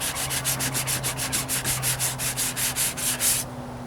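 Rhythmic back-and-forth wet sanding strokes on the paint of a 1998 Toyota Corolla, about a dozen even rubs in quick succession, close up, then stopping.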